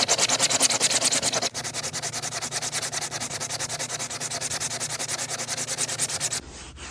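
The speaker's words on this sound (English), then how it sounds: "I use the sanding block for the raised areas, the piece of sandpaper by hand to do the lower areas." Sandpaper rubs by hand across a large print in rapid, even back-and-forth strokes, a close, steady scratchy rhythm with one short break partway through, and no voices.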